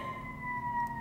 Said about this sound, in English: There's an ambulance coming right now